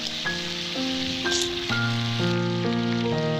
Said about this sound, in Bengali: আলুগুলোকে আমি লাল লাল করে ভেজে নেব